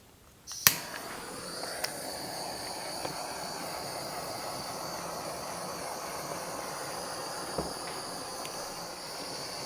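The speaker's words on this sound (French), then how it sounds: "on va passer le chalumeau de cuisine pour dorer un peu la meringue" A kitchen blowtorch browning meringue on a lime meringue roll cake, a steady faint hissing roar that starts with a sharp click and runs evenly, with a few soft clicks along the way.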